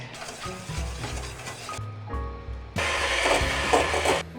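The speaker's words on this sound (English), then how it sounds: "Let me do this with a hand whisk." Hand whisk creaming cold butter and sugar in a bowl for cherry blossom cupcakes, making soft scraping and rubbing strokes, quiet at first, then a louder stretch of steady whisking.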